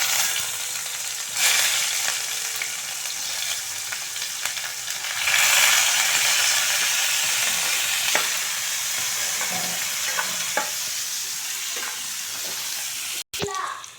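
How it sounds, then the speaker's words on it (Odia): Raw onion sizzles in hot oil as the base for a masala in a flat bean and potato curry, a steady close frying hiss with occasional spoon clicks and scrapes against the pan. "ପିଆଜ ଏବେ ଭଲ ଭାବରେ ଜାରି ହେଇ ଆସିଲାଣି।"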